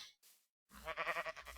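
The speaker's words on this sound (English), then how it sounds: "Obviously, there's lots and lots of sheep." Sheep bleat in the Minecraft video game, a short wavering bleat after a brief faint sound and a pause, clear and close with no talk.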